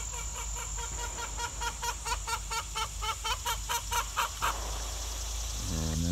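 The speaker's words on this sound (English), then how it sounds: "that's one of my hens letting everyone know that she just laid an egg." Hen in a forest chicken run clucking loudly in a steady rhythmic series after laying an egg, repeated calls over a constant background hum, with a brief rising squawk near the end.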